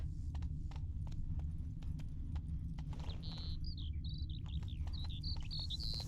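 Roach the horse galloping in The Witcher 3, a quick steady run of hoofbeats under a bed of crickets and insects, with chirping birds joining halfway through.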